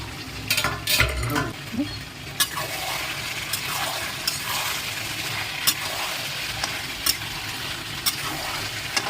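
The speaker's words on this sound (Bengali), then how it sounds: "এখন আগলা করে একটু নাড়িয়ে নেব" Village-style duck meat curry with potatoes is stirred in a pot, with soft spatula scrapes and knocks at a loose, uneven pace over a low simmering sizzle. The sound is close and there are no voices.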